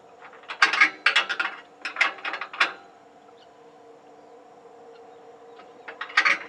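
A wrench tightens a clamp on the frame of a DIY off-grid solar tracker, giving rapid ratcheting clicks in several quick bursts, then a pause, then another short run of clicks, all close and crisp.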